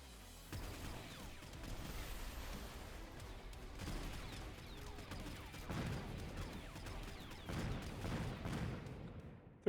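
Video game skirmish of AMS-equipped Mustang units intercepting Stormcaller heavy missiles: a dense, continuous barrage of rapid gunfire bursts and crackling impacts, swelling in loud waves and holding steady throughout.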